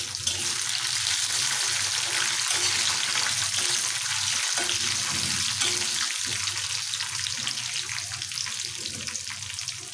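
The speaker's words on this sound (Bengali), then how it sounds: "গরু মাংস রান্না করছি" Beef cooks in a pan with a loud, continuous sizzle that holds steady for ten seconds, its wet, hissing spatter close and uninterrupted.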